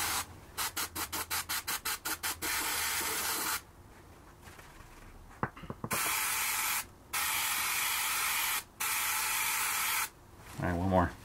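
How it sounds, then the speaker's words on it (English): Aerosol adhesive sprayed onto small foam gaskets for Mazda RX3 vents, close by: a run of quick short bursts, then several longer steady hissing sprays separated by pauses and faint handling noises. "now I want to apply adhesive to the little foamies. Apply 1 to 3 even coats."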